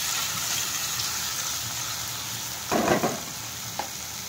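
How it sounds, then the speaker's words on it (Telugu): Chopped tomatoes fry in a pan with a constant sizzle, and a spoon stirs them in a short burst of scraping partway through, then a single knock. "ఇప్పుడు కట్ చేసుకున్న టమాటాలను యాడ్ చేసుకుందాము. ఒకసారి బాగా కలుపుకుందాం."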